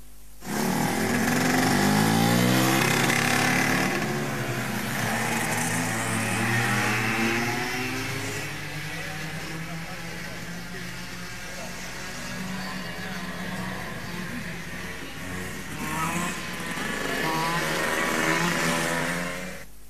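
A car engine revs loudly and keeps running steadily as the vehicle pulls away, a continuous close rumble with rising and falling pitch, with faint voices at the very start.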